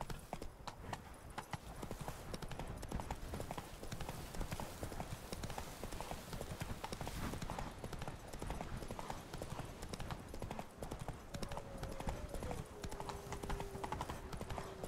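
A horse gallops in The Witcher 3, with steady, rapid hoofbeats close by and continuous throughout, plus a brief tonal whinny near the end.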